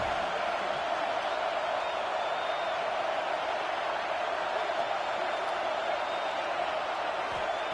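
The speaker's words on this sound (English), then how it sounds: "the crowd coming to life here, trying to help this defense down in the red zone" Stadium crowd noise in a college football video game, a steady roar building as fans try to help the defense in the red zone, continuous wash of distant cheering.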